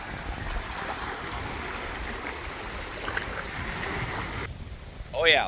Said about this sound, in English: We got some waves breaking now.